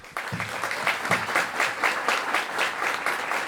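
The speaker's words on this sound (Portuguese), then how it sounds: "queria pedir a todo mundo aqui uma incrível salva de palmas aí para o Wagner" An audience at a corporate talk on sustainability applauding a guest speaker named Wagner, a moderately soft, steady patter of many hands with a loose, slightly rhythmic pulse.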